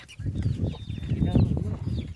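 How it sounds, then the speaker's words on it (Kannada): Nearby chickens cluck in short, repeated bursts while pecking at scattered rice outdoors, with people talking around them. "ಕೋಳಿ ಮೇಯಾಕತ್ತ ನೋಡ್ರಿ."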